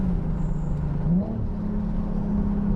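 Nissan 370Z with a DIY muffler delete downshifting, its engine note rising in a brief blip with a steady droning exhaust rumble throughout, loud and close.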